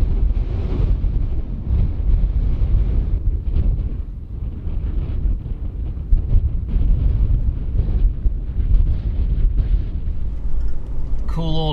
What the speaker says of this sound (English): The wind is making it very hard to be outside